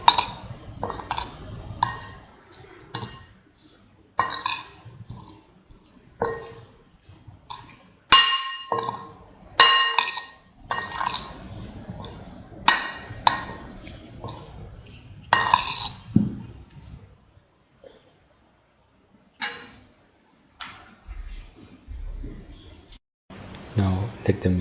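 Marinade for cottage cheese capsicum stew being mixed in a bowl, repeated clinks and scrapes of a spoon against glass or metal in irregular bursts, with a quiet pause near the end.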